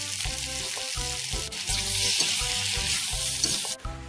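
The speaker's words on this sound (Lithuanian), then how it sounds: "Pilame bulvę. Ir jas apkepinam." Sliced potatoes fry in oil in a kazan over an open fire, a steady loud sizzle broken by rhythmic scraping and stirring strokes roughly twice a second.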